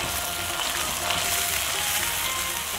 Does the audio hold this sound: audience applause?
no